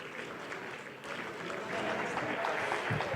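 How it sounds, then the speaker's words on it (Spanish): An audience applauds a guest at a Mexico–United States business summit, a diffuse wash of clapping that swells louder midway and holds steady, with a faint murmur of voices beneath. "Un aplauso para él, por favor"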